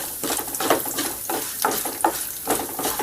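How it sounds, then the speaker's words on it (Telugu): Urad dal frying in a pan while being stirred, with a scraping, rustling rhythm of repeated strokes roughly every half second over a soft sizzle, near and alone with no talking. "పప్పు జస్ట్ అట్లా గోల్డెన్ బ్రౌన్ కలర్ అంటారు కదా, అట్లా వచ్చే వరకు వేయించుకుంటే సరిపోతుంది"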